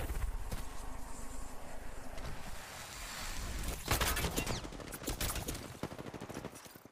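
Rapid gunfire from the video game Apex Legends crackles in dense, overlapping bursts, with heavier shots swelling near the middle as the firefight continues close and loud.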